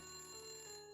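A telephone rings steadily in a video game, a continuous electronic bell-like tone that holds for the whole second before starting to fade at the end, with no talking over it.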